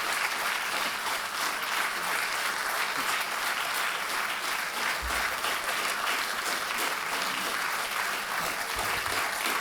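A conference rump session audience applauds steadily throughout, a dense, sustained wash of clapping from many hands with no speech over it, holding loud and even for the whole stretch.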